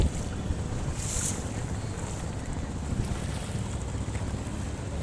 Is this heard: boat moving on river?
yes